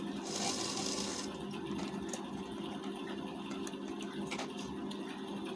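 A sewing machine runs steadily throughout, stitching a lined blouse with a continuous mechanical whir and a louder burst near the start, with no talking.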